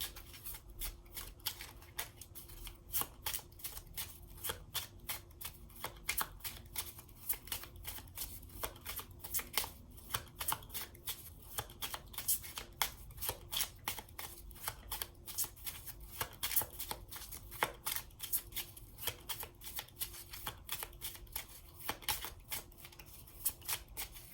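A deck of playing cards being shuffled for a reading, crisp rapid riffling clicks repeating steadily over a long stretch, close and quiet with no talk.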